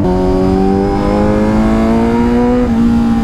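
A Kawasaki Z900 motorcycle's engine runs steadily while riding on a road trip through Purulia, a loud, close drone whose pitch climbs and then steps down near the end as if shifting gear, with no talk.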